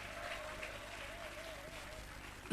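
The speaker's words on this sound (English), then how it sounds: "a round of applause for him" Applause from an audience at a closing ceremony for a teacher training institute, honoring a chief executive; steady, dense clapping fills the room without pause, moderately loud and even throughout.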